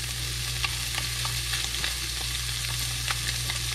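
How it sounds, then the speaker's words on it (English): Hybrid striped bass fillets sear in a hot pan, giving a steady, even sizzle with faint pops and crackles against a low hum. "Now we're gonna let these fillets, they need to sear on each side about 3 or 4 minutes at least."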